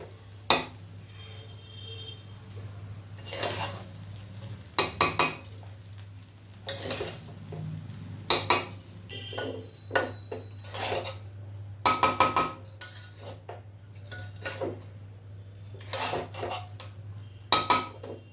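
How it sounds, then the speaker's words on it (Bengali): A utensil repeatedly scrapes and clinks against a pan while fried rice with vegetables and spices is stirred, giving irregular sharp metallic knocks and scrapes close up over a steady low hum, with no talking. "এবারে আমি এটাকে নাড়াবো। মশলাটা সব সবজির সাথে ভাতের সাথে মিলিয়ে দেবো।"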